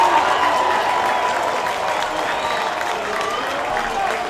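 A baseball stadium crowd at an Atlantic League championship game roars and claps steadily through a ninth-inning pitch to the Long Island closer, a loud, continuous wash of cheering with an announcer talking over it.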